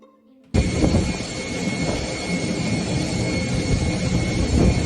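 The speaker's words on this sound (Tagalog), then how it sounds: "tingnan nyo mga sangkay itong eroplano na ito" An airplane at Dubai airport during flash floods and heavy rain: after a brief quiet moment, a loud, steady broadband roar sets in and holds for several seconds.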